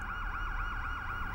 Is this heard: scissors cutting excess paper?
no